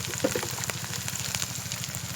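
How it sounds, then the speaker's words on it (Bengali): Ground spice masala of dried chili powder and turmeric fries in a pan, giving a soft, continuous sizzle with a crackly texture and faint popping, heard on its own without talk. "মশলাটা 2 মিনিটের জন্য কষিয়ে নিই।"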